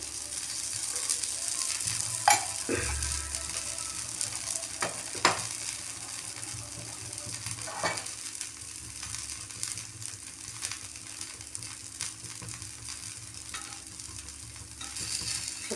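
Ragi dosa frying in ghee on a stove over a medium flame, giving a steady soft sizzle throughout with a few brief clinks and scrapes of a utensil, close by and with no talking.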